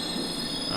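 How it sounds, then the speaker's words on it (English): A London Underground Circle Line train in Train Simulator 2020 rumbles past with a steady metallic hum and faint wheel squeal, loud and close in a brief burst. "I can hear another train on the other side"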